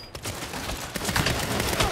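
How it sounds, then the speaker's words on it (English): Rapid gunfire rattles from behind the player in a shooter video game, a dense continuous burst of shots that stays loud and close throughout, with no talking. "Wih, ada yang nembak di belakang."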